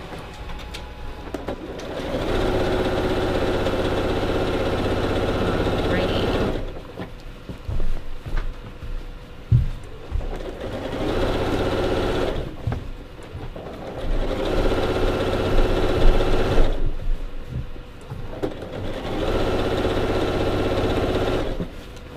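A sewing machine runs through a long seam on a baby quilt, its steady mechanical hum coming in several sustained bursts separated by short pauses, close and fairly loud with no talking.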